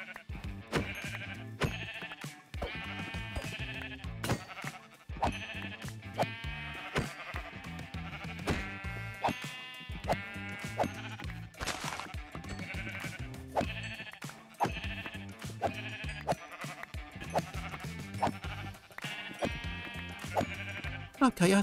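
Minecraft sheep bleat over and over in quick, evenly spaced calls, staying at a steady level throughout under background game sounds.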